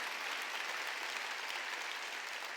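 A congregation claps hands during a Korean church sermon, a steady, even wash of applause that sounds faint and distant.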